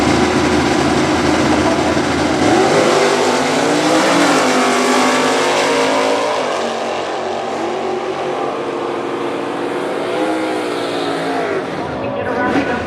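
A Chevrolet Camaro super stock drag race car launches and roars off, the loud engine note rising through the gears and then fading as it pulls away, with a track announcer talking over it.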